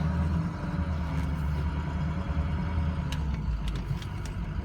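A 2007 Ford truck engine runs while driving, a continuous loud low rumble and drone with road noise and a few faint clicks from inside the cab.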